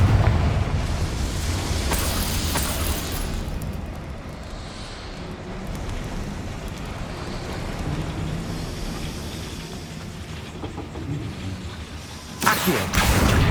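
Fiery Confringo blasting spell in the Hogwarts Legacy video game: a dense, roaring broadband rumble runs throughout, ending in a sharp, louder burst near the end.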